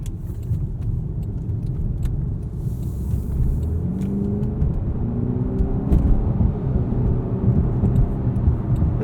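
A 2021 Jaguar XF P300 R-Dynamic AWD with a 2-liter turbo engine and 8-speed automatic drives along, its cabin filled with a steady low engine drone and road rumble, a rising engine note audible midway, and faint rattles.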